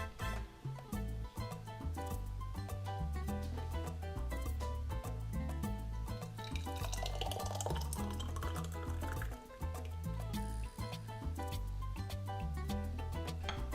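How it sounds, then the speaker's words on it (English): Hot Seville orange marmalade glugs from a Pyrex jug into glass jars, with soft drips and a rising fill tone as each jar tops up, mixed under steady background music. "I've perfected this technique of using a Pyrex jug to decant the marmalade, filling up each jar to just below the top"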